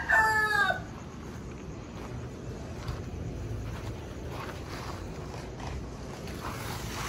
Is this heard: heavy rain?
no